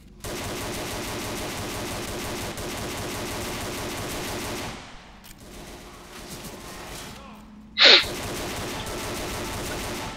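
Rapid bursts of pistol gunfire in Left 4 Dead's No Mercy campaign, dense and continuous for several seconds before thinning out, then one sharp loud report near the end.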